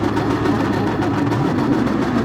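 Racing car engines hold high revs on the starting grid at Monza in an online league racing video game, a steady dense droning roar with no break and no talk.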